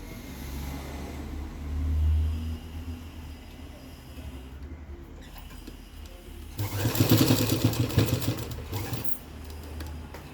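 A sewing machine stitches a nightie in a tailoring setup: a quiet, steady background hum, then a loud, fast, rattling run of stitching for about two seconds before it settles back to a low drone.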